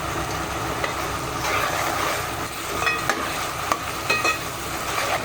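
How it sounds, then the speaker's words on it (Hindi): Spices roast in a pan for chicken curry, a steady loud sizzle with stirring and occasional scrapes of a spoon, close up and continuous, with no talking. "मसालों को भूनना अभी जारी रखेंगे।"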